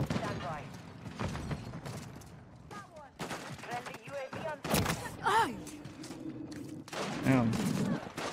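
Gunfire in a Call of Duty MW3 multiplayer match, with scattered loud bursts and shots amid game noise and brief voice chatter.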